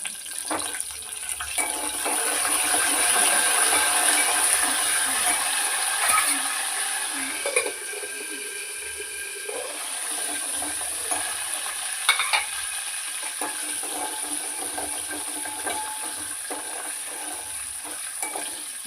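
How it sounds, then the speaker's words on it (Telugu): Curry leaves fry in a pan for gongura chutney, making a steady sizzle and stirring noise that swells louder early on, then settles into a quieter crackle with a few clinks, with no one speaking. "కరివేపాకు కూడా కొద్దిసేపు వేగనించుకొని"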